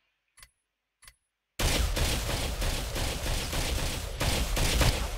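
A burst-fire rifle in the game Ghost Recon Phantoms fires two short, sharp isolated shots, then breaks into a long, loud, dense stretch of continuous rapid gunfire, with no talk.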